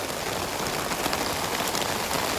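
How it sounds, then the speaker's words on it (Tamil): Heavy rain pours down steadily onto a tarpaulin sheet at a construction site in Kanyakumari, a dense, loud, continuous hiss with close drumming patter and no voices. "சூப்பர் மழை."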